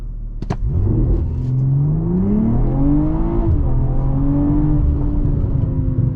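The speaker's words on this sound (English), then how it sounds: "Oh my god, this car accelerates so fast." A 2023 BMW M340i pulls away hard from a launch, the engine revving loudly and climbing in pitch through a gear change before rising again, recorded from the cabin with no speech.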